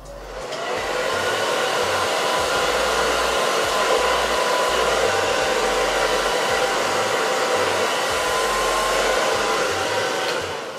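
A hair dryer with an attachment blows steadily at close range against a wig's lace, a loud, continuous whooshing roar that starts up and runs without a break.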